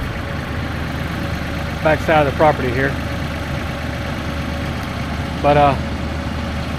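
A brand new Massey Ferguson 4710 tractor idles steadily at a low, constant rumble outdoors at the back of a property, with someone talking over it in a few short bursts.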